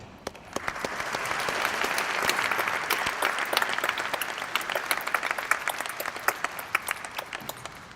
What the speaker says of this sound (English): we all deserve a round of applause for reaching this milestone